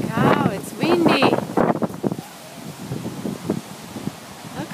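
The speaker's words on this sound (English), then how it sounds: "Holy cow, it's windy." Strong hurricane wind buffets the microphone in loud gusty rumbles near a lake with waves, while a person talks over it.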